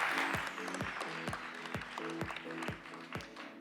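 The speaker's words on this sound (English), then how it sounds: "Ladies and gentlemen, another round of applause." Applause from the audience at a startup pitch competition final in Tokyo, moderate and steady with some distinct louder claps, while a low musical tone runs underneath throughout.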